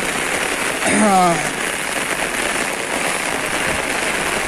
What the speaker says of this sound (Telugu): హైదరాబాద్లో భారీ వర్షం